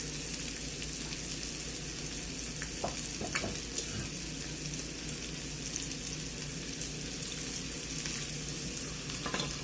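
Curry sauce made with curry powder and turmeric sizzles steadily in a pan over medium heat, a dense continuous frying hiss with occasional soft stirring clicks and no talking.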